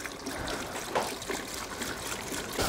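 Fuel pours into the tank of a barn-find BMW E30 in a steady, close liquid trickle with no voices.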